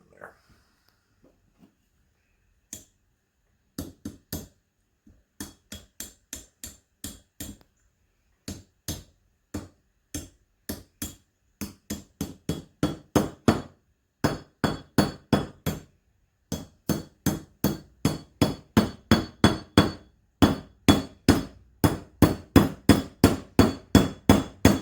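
A brass drift is hammered against a trailer wheel bearing, giving a long series of sharp metallic strikes that start sparse and build into steady, loud, rhythmic bursts of blows, close by and with no talking.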